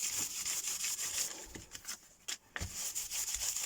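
Nail file sanding a miniature journal cover, quiet scratchy rubbing strokes in an uneven rhythm with brief pauses, close and faint, no talking.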